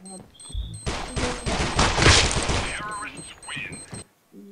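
Rapid bursts of gunfire from the mobile shooter Critical Ops fill a ranked match, dense and loud at the center with sporadic shots before and after, mixed with a player calling out over the action.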